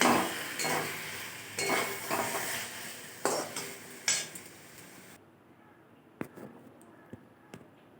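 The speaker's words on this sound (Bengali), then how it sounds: "চিনি দিয়ে একটু নেড়ে নেব" Spinach chorchori being stirred in a pan after a spoonful of sugar goes in, with a steady frying sizzle and scraping spoon strokes for about five seconds, then quieter sparse clinks and taps near the pan.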